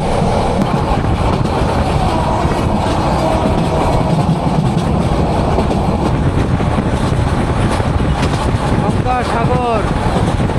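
Upokul Express train running on rails, with a dense, continuous rumble and rattle of the carriage heard from on board, loud and unbroken, with a few faint squeals near the end.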